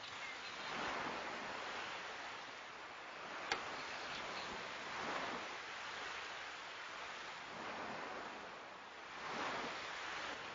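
Rolling surf from the Chrono Cross video game, a steady wash of ocean waves swelling and receding in slow cycles, with one sharp tick near the middle and no voices.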